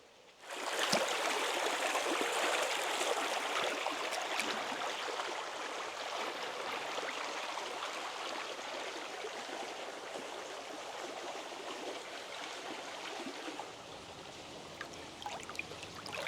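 Walker Creek in Litchfield National Park flowing over rocks, a steady close rushing and trickling of water that continues evenly throughout with no voices.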